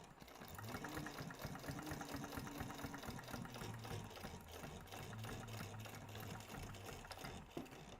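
A home sewing machine bastes a seam on a crossbody bag, running in a continuous fast needle chatter for several seconds at a fairly quiet, steady level with no talking.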